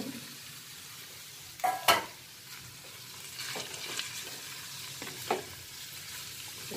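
Chowmein noodles stir-fried and mixed in a pan, a quiet sizzle broken by a couple of louder spatula scrapes and clinks against the metal, no voices.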